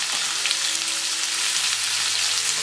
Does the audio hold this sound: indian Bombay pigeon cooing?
no